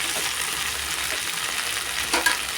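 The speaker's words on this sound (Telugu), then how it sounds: "ఇదిగోండి బెండకాయలు వేసేసుకోవాలి. ఇప్పుడు బాగా వేయించుకోవాలి." Okra pieces fry in a pan, giving a steady close sizzling hiss broken by a few soft stirring scrapes and clinks, with no talking.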